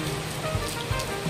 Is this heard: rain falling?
yes